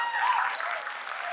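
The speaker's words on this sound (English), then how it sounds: "I think that gets a round of applause." Brief applause rises from a convention audience at a nostalgia fan event, a short burst of clapping mixed with cheering voices, moderately loud and fading quickly.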